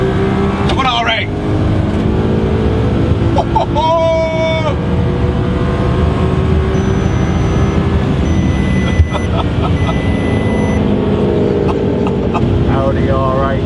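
An Audi R8 and a Mercedes A45 drag race, their engines a loud, sustained roar that fills the whole stretch, with excited voices calling out over the continuous engine noise.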